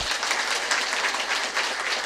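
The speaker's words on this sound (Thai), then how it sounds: "ก่อนอื่นนะก็ต้องขอพลังเสียงปรบมือให้กับแพทย์หญิงนลินีไพบูล" Audience applause at a hall event, a dense, even roar of many hands clapping steadily throughout, loud and without talk.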